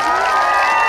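Concert audience applauding at an open-air community day music show in Pocheon, a steady dense wash of clapping from a crowd, fairly loud and continuous without speech.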